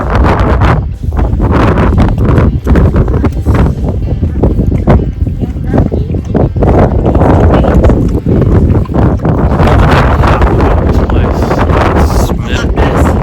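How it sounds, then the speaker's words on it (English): Strong wind blows across a Nevada campground, buffeting the microphone with loud, continuous rumbling gusts, while people talk over it. "The wind is blowing"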